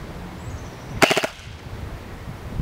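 A quick string of about five sharp shots from an Elite Force PDW airsoft gun fired outdoors at distant targets, clustered tightly together in under half a second, close and crisp against a quiet background.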